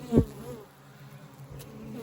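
A honeybee with pollen on its legs buzzes close by at a hive entrance on the first day of spring: one brief loud buzz as it passes, then a faint, steady hum.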